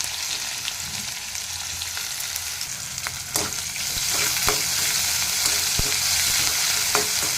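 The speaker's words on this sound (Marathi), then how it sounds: "आता आपण कापून घेतलेला कांदा घालू ह्याच्यामध्ये" Chopped onion added to hot oil with mustard seeds, garlic and cumin, sizzling and frying steadily with a few stirring clinks, close and loud throughout with no talking.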